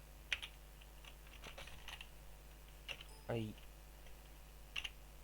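A computer keyboard clicks in short, irregular bursts of keystrokes while text is typed, faint and close, with quiet pauses between the taps over a low steady hum.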